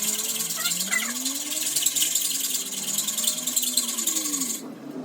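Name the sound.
hacksaw cutting bicycle axles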